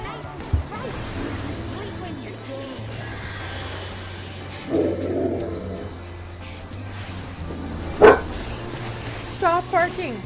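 A small female dog barks and whimpers indoors in short scattered bursts, including one loud yelp, while someone talks over it.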